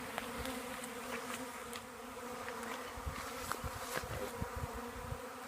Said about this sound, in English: now we have our box of bees.